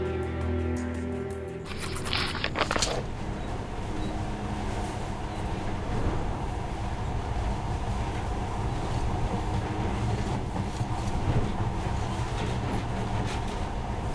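A monorail train rides along in the game Metro, giving a steady, close rumble with a faint rhythmic rattle that runs unbroken throughout, after a brief burst of noise at the start.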